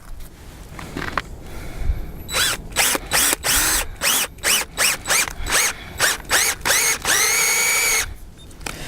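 A power drill with an auger bit, boring into a maple tree, whirs in a rapid series of short bursts, revving up and down repeatedly before one longer, sustained run, close and loud.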